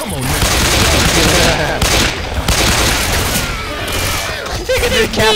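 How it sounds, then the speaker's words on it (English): Heavy gunfire in the video game Left 4 Dead 2, rapid continuous shots and bursts filling the scene loudly, with voices talking over the shooting. "Can you stop shooting me?"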